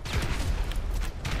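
A quick burst of rapid gunfire crackles in a motorbike combat game, several close shots packed into a little over a second, with no talk.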